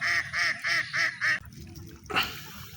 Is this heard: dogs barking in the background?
no